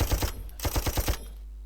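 Aircraft machine gun strafing in the wartime strategy game Panzer Corps, two quick bursts of rapid, punchy shots, about four then five rounds, close and loud, ending in a fading hum.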